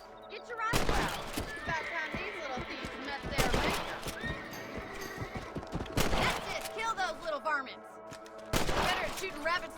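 Rifle shots at rabbits in the video game Red Dead Redemption: four loud, sharp reports spaced a few seconds apart, set among horse whinnies and other game sounds, with speech in the mix between shots.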